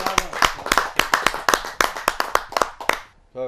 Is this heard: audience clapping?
yes